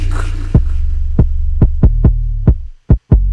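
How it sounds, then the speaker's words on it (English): Deep, booming 808 kick drum hits in an FL Studio R&B hip-hop beat, loud and punchy, landing in an uneven rhythmic pattern over a sustained low 808 bass tone, with no voices. "I have a kick too going with it."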